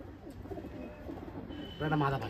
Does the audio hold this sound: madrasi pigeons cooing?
yes